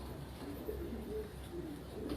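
Pigeons with liver-coloured, net-patterned eyes give soft, low coos over a quiet, steady background hum.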